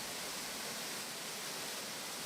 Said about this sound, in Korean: 힘차게 쏟아지는 빗줄기